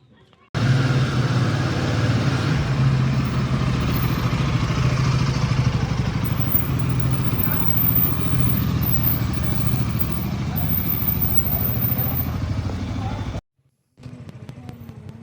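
A steady, loud motorcycle engine drones on for most of the stretch, dropping out briefly near the end before resuming.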